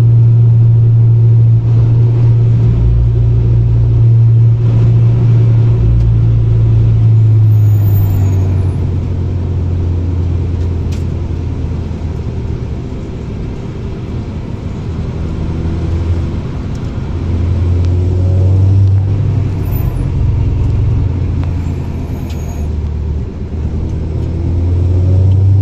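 Volkswagen Scirocco engine droning loudly from inside the car on the Nürburgring, a steady low rumble that swells and fades as it accelerates, with no talking.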